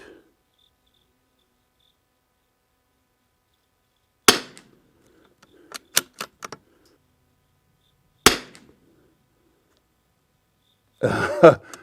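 Rifle shots with an EC Tuner V2 fitted, two sharp isolated cracks about four seconds apart in a quiet setting, a few faint clicks between them, and a brief rough noise at the end.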